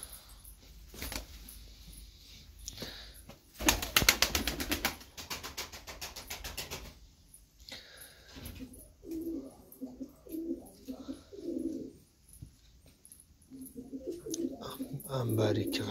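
Tumbler pigeons coo in soft, repeated low phrases inside a coop, with a burst of flapping or clattering early on and a person talking nearby.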